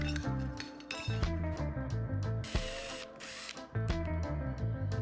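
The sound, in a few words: drilling a small 2mm hole in an ornament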